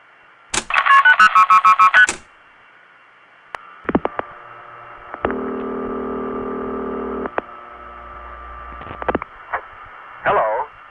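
Old telephone network tones play from a tape recording in separate bursts: a fast rapid sequence of beeps, a few clicks, then a longer steady tone and more short beeps.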